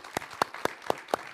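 Five sharp, evenly spaced claps ring out in a Hindi-language debate show setting, each a distinct burst rather than a dense crowd roar, moderately close and without talk.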